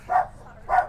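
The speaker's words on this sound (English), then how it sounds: "Got another loose dog." A loose dog barks twice outdoors near an RV in cold winter conditions, two short sharp barks about half a second apart, fairly close and moderately loud.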